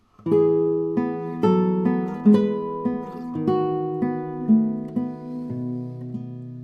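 Classical guitar plays a slow melody from Tárrega's Lágrima over a bass line and a sustained middle voice, notes plucked cleanly and ringing together.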